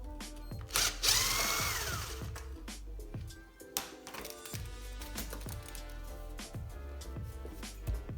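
Nuts being undone on the oil pan of a Honda H22 engine, with a sustained whirring tool run followed by repeated ratcheting and clicking metallic taps nearby.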